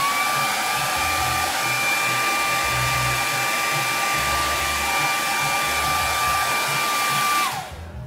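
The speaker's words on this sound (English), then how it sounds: "if you wanna speed up the process, the drying process, you use a blow dryer" A blow dryer runs continuously to dry paint, a loud steady whooshing roar with a constant motor whine, close to the microphone, switching off and winding down near the end.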